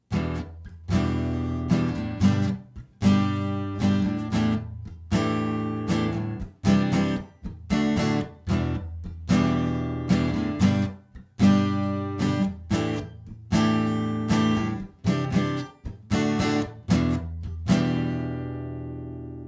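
Acoustic guitar strums chords in a more advanced rhythmic pattern, with steady, close strokes and short pauses throughout and no voice.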